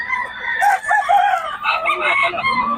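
A home-raised gamefowl rooster crows loudly and close by, one drawn-out cock-a-doodle-doo filling the short moment, with faint clucking and background activity around it.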